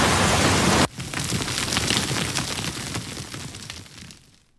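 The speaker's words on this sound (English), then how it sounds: "More wind and rain." Wind and rain from a Payday 2 sound file: a dense, loud hiss of falling rain and gusting wind that cuts in abruptly, then continues steadily before fading out.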